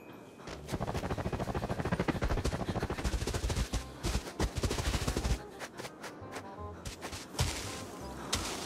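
Rapid bursts of gunfire in the shooter game Arena Breakout, dense repeated shots for several seconds that thin into scattered single reports, loud and close with no talk over them.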